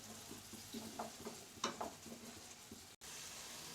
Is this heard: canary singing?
no